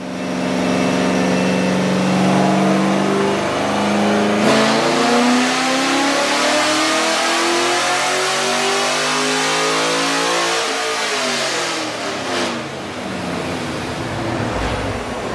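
Car engine fitted with 180 degree headers revving hard on a dyno, a loud continuous roar with rising and falling pitch sweeps as it climbs through the revs, no talking.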